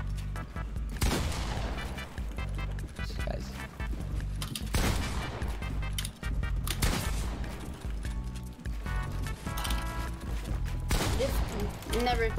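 Fortnite gunfire, repeated loud sharp shots in bursts and single cracks with booming tails, mixed with in-game effects and a talking voice throughout.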